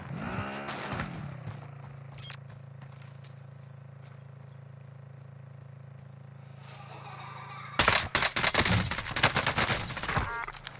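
A sniper rifle in Warzone opens with a sharp report, then a long low drone. Near the end a dense burst of loud, rapid gunfire erupts.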